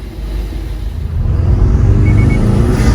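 Close, loud engine rumble from a car with a new Cobb Stage 1 intake builds as it revs up and holds at a higher pitch, steady and continuous, with no voices.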